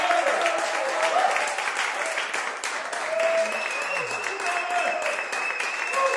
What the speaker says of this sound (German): wir machen einen kleinen Applaustest, was heute hier im Saal möglich ist